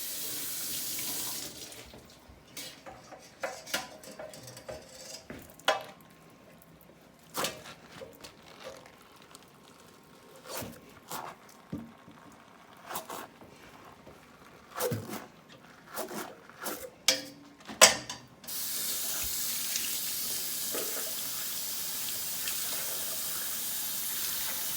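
Tap water splashes into a sink in short, uneven bursts as milking equipment is washed, quiet between gushes, then a steady run of water flows continuously near the end.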